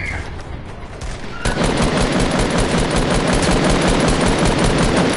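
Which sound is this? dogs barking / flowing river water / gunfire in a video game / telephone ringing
gunfire in a video game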